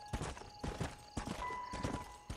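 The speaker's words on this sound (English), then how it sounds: "The horse movement in this game is great compared to other games." Galloping horse hooves in the 2010 western video game Red Dead Redemption, a steady series of rhythmic clopping hoofbeats, close and fairly loud, over a soft sustained musical backdrop.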